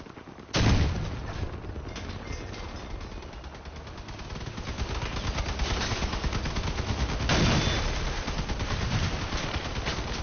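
Continuous rapid gunfire and heavy cannon blasts in the vehicle combat video game Crossout, a dense, loud barrage with a sharp blast near the start and another surge midway.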